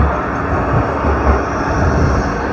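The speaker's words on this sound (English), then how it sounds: "here's a nice tram for you" A modern tram, part of a newer fleet about fifteen years old, rolls past nearby with a loud, steady rumble of wheels on rails that swells slightly through the pass, with no one talking.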